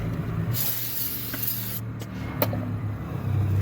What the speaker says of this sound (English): I like spraying it in the box so it doesn't make a mess.